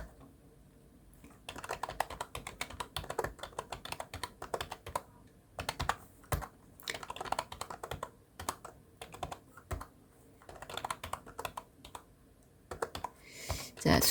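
Rapid clicking of keys on a computer keyboard while entering data in Excel, in bursts with short pauses, close and fairly quiet, no voices.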